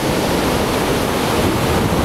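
Ocean surf washing onto a beach at Jaco, Costa Rica, in the rain, a loud steady broadband rush of breaking waves mixed with wind noise on the microphone.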